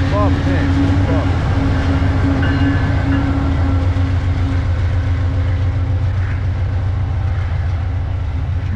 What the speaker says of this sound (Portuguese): Mais um trem da Vale aí, um trem de minério para descarregar.